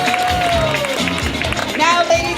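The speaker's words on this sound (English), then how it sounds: "Let's give K3 a round of applause." Audience applause and crowd noise at an evening school word parade after the K3 class performs, steady and fairly loud with babble mixed in.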